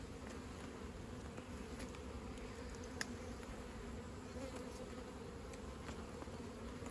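Honey bees swarming over a frame lifted from a hive, a continuous close buzzing drone with steady rhythm and a brief faint click partway through.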